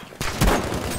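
Gunfire in the video game Battlefield V: a sudden burst of shots starts after a quiet moment and rolls into a loud, dense volley with booming low thuds, continuing to the end.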